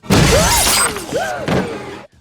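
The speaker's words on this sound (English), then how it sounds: "The monitor explodes right in her face, launching a chunk of glass into her neck." A computer monitor explodes in a film scene, with a loud crash and burst of shattering glass, followed by scattered debris and further breaking over about two seconds before it cuts to near silence.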